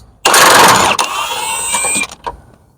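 A 21 mm socket on an impact gun zips loose an engine mount nut on a Cadillac SRX 4.8 V8, one loud close burst of about two seconds, followed by a short faint trailing rattle.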